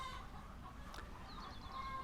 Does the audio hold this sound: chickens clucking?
yes